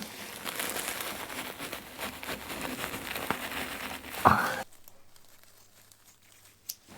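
Scissors cut steel wool in dense crinkly, scratchy snipping and tearing, close up, ending in a sharp cut followed by near silence with a faint click.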